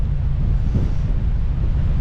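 Strong wind buffets the microphone in a steady low roar, with a faint wash of water underneath and no voices.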